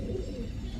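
A Gorra pigeon gives a brief, soft, low coo, close by and alone.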